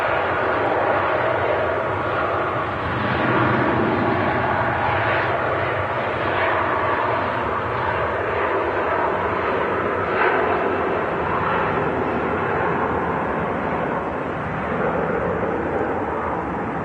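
Aircraft engines at Manchester Airport, a loud, steady, broadband roar that holds throughout with slight swells, with no speech.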